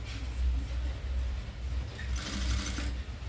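A sewing machine stitches a frill on a long dress with a steady, close mechanical whir that runs continuously with no talking.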